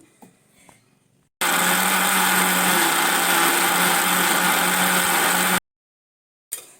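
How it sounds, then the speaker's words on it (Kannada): A mixer grinder blends apple, beetroot and carrot with water into juice, a loud steady whine with a low hum running for about four seconds, then cutting off abruptly, followed by a short restart burst. "ಈಗ ನಾನು ಇದನ್ನ ಮಿಕ್ಸಿಗೆ ಹಾಕ್ಕೊತೀನಿ"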